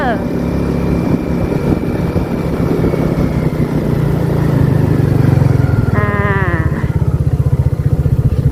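Motorcycle ridden on a solo road trip, a loud, steady engine drone with wind noise that rises slightly in pitch midway, close up, while someone talks over it.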